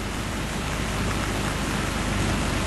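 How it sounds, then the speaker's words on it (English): Steady rain pours throughout a 1989 cross country horse event at Werribee Park, a dense, even hiss of drops on the ground with no break and no talk. "Horse is tilting his head a little bit away from the rain."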